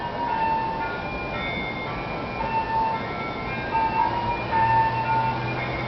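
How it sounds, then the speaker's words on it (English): An ice cream truck's tinny melody chimes repeatedly from a short distance, a steady looping jingle carried over a constant low street rumble. "ice cream truck's coming"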